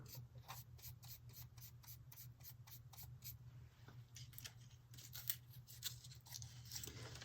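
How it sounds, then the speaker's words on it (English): Scissors snip through paper for scrapbooking in a quick series of close, soft, rhythmic cuts, with a brief pause midway before the snipping resumes. "I purposely cut things messy just because that works for me"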